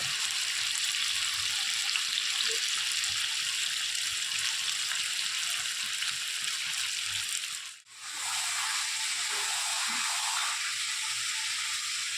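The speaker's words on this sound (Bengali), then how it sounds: "মাংসটাকে ভালো করে কষিয়ে নিচ্ছি" Meat being browned in a pan on the stove, a steady close hiss of sizzling that drops out for a moment near the end before resuming.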